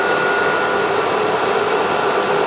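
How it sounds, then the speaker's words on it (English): A vacuum pump and dust collector on a CNC router run together, giving a loud, steady whooshing drone with a constant whine and no change in level. "we also use the machine to control vacuum pump and the dust collector"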